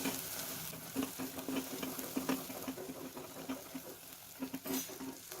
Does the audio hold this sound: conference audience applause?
no